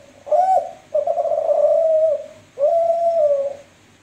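A turtle dove gives three clear, drawn-out coos, close and loud against quiet background hiss, with short pauses between the calls.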